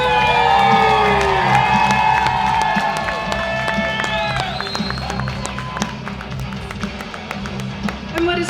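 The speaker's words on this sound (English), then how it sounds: "Big round of applause, please." Audience at a sci-fi fan convention stage show claps, cheers and whoops loudly, with high excited shouts over steady clapping that gradually settles.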